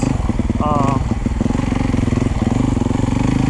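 A 2014 Yamaha YZ 250F four-stroke dirt bike with a Rekluse clutch chugging at low revs up a woods trail, a steady loud thumping engine throughout with someone talking over it.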